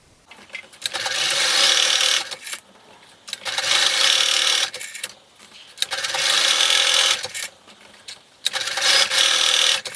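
A sewing machine runs long seams along beach bag fabric in four sustained whirring passes of a couple of seconds each, with short pauses between them, loud and close.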